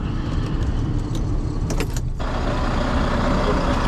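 A truck engine runs steadily throughout in the early-morning dark, with a broadband rumble and a brief jangle of keys partway through; no one speaks.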